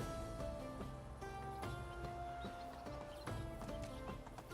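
A horse gallops in the medieval village game Medieval Dynasty, its hooves clip-clopping in a quick, steady rhythm over a tonal music bed, with no one speaking.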